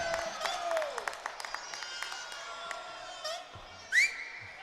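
Referee's whistle at an under-18 girls' hockey finals game, a short rising shrill blast near the end over a continuous murmur of crowd noise and scattered rink sounds.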